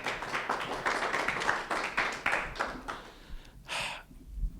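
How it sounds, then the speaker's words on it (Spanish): A church congregation gives applause to God during a prayer service, a loose burst of clapping with uneven, separate hand claps that thins out and stops after a few seconds, followed by a short breathy noise. "¿Alguien le da un aplauso a Dios?"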